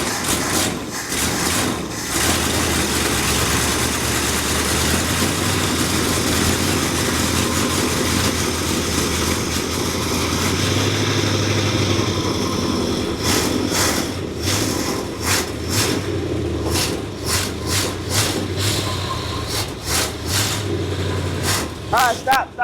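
A 1964 Chrysler engine that sat unused for 25 years runs loud and rough while smoking, a steady throbbing idle with some sputtering near the end, and voices talk over it.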